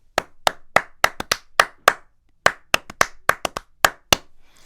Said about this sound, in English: So if I clap my hands with the door open,